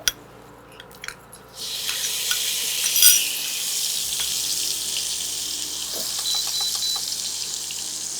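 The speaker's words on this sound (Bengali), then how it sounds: "আচ্ছা, এবারে চিংড়ি মাছটা দিয়ে দিই।" Prawns go into a hot pan for a Bengali prawn curry with taro and start to fry. After a few faint clicks comes a sudden, steady hiss of frying that carries on close and loud with no talking.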